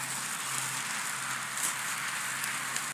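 A big one-bone prime rib cut sears over a hot grill with flare-ups, giving a dense, continuous crackling sizzle up close with no voices.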